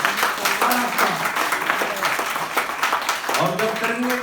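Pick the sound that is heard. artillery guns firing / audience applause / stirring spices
audience applause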